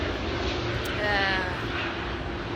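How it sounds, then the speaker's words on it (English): A propeller airplane passing overhead outdoors on open land, a steady broad engine drone that fills the whole stretch, fairly loud and unbroken, with no speech on top. "And there's the plane again."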